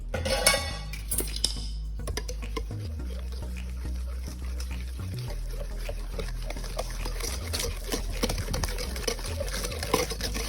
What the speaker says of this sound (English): I'm gonna switch to my whisk because that will be a lot easier to do.